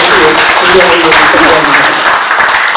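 Audience clapping at a Korean banquet-style gathering after a speaker's request, sustained and fairly loud throughout, with a voice mixed in under the applause.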